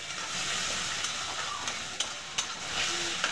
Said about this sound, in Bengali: টমেটোকে ভালোভাবে নাড়াচাড়া করে গলিয়ে নেব।